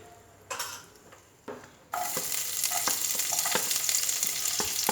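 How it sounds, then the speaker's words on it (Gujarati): Cumin seeds crackle in melted ghee for a dal tadka: a few soft stirring knocks first, then a sudden burst of sizzling that holds steady with rapid popping and a scrape or two of a spoon. "જીરું એડ કરીશું અને જીરુંને એકદમ સરસ ચટકવા દઈશું"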